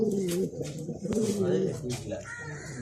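Pigeons in a loft coo close by in repeated throaty rolling calls, several birds overlapping, while people talk in the background.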